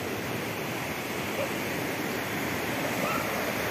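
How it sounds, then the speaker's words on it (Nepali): The Kali Khola stream flowing near farm fields, a steady, broad rushing of water that holds even and moderately loud for the whole stretch, with no voices over it. "यहाँबाट पानी बग्दो रहेछ"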